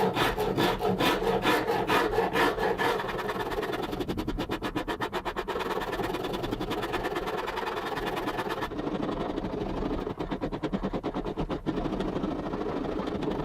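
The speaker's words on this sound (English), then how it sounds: "grab the trusty Shinto rasp and start making some sawdust" A Shinto rasp shapes a wooden acoustic guitar neck, producing close, steady rasping strokes that scrape rhythmically and continuously with no voices.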